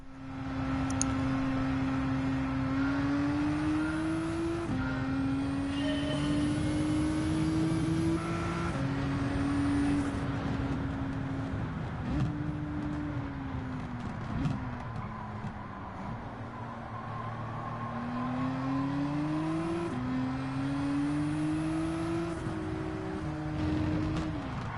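Race car engines roar steadily at WeatherTech Raceway Laguna Seca in a racing video game, revving up and shifting gears repeatedly through a ten-lap race, loud and continuous with no talk.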